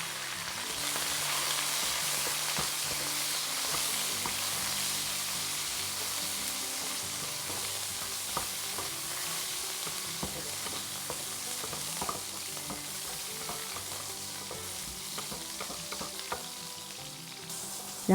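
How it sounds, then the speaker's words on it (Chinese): Coriander and scallion pieces stir-frying in hot chili oil with dried chilies in a wok, a steady bright sizzle throughout with occasional scraping stir strokes and light ticks, no voices. "放一小把香菜，再放点葱段， 稍微翻炒一下"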